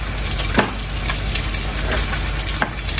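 Chicken pieces frying in a hot pan for a chicken, celery and tomato dish, a steady close crackling sizzle with a few sharper pops and scrapes, no voices.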